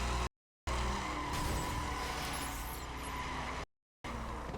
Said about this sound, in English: I'm on these curvy ass mountain roads in a spec Silverado.